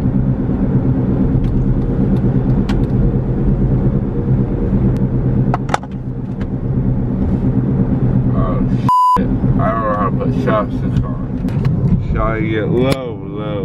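Loud steady road rumble and wind roar from a car driving along with a window rolled down, with a brief electronic beep partway through and people talking over the noise near the end.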